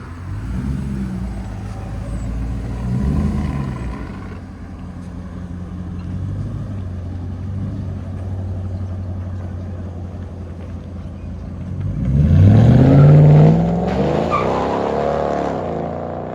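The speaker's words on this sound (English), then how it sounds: "Drive off number 2. 21 Ram 1500, true dual X pipe, straight pipe." A 2021 RAM 1500 pickup with a 5.7L HEMI V8 and straight-piped true dual X-pipe exhaust idles with a deep rumble, then roars louder as it pulls away and fades.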